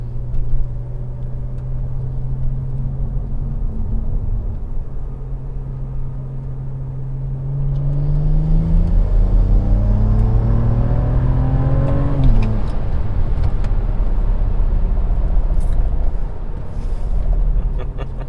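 A BMW E92 running an E25 ethanol blend on a test drive accelerates hard, its engine note climbing loudly through one gear, dropping at a shift, then rising again to high revs.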